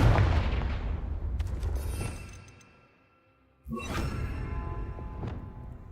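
The Confringo explosive spell in Hogwarts Legacy lands with a heavy boom that rumbles off into quiet, then a second sharp blast with a crackling burst follows, loud and close.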